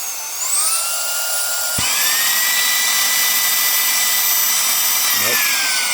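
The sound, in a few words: cordless mini handheld vacuum cleaner running while clogged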